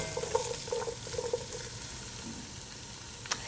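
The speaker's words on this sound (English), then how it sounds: "As you're sweating them, you're cooking them without browning them until they become translucent" Mirepoix of carrots, onion and celery sweating gently in a pan, a soft steady sizzle with a few light stirring scrapes early on and a brief clink near the end, no talking.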